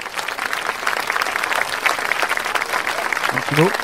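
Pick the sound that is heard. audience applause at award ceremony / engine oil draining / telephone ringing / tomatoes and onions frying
audience applause at award ceremony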